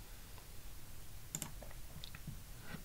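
A computer mouse gives a quiet, quick double click near the middle, with a few fainter ticks around it in an otherwise hushed room.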